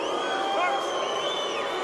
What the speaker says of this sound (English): loudly booing at what's going on right now